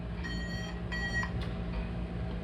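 Flytec 6010 paragliding variometer giving two short electronic beep bursts close up, over a steady low hum.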